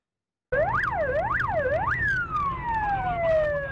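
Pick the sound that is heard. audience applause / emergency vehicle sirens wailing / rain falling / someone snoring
emergency vehicle sirens wailing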